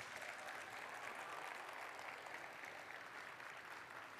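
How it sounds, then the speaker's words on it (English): A crowd at a district event's opening ceremonies gives a sustained round of applause, an even, continuous wash of clapping from many hands throughout, heard alone without voices on top. "Give me a round of applause if you want to help me celebrate"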